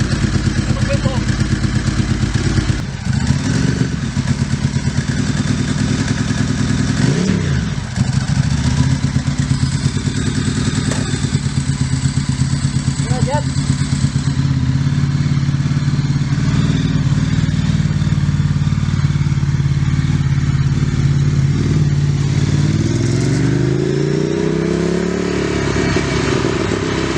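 Kawasaki Z650 motorcycle engine running loud and close, with a steady throb and a rising tone as it pulls away near the end; people talk over it.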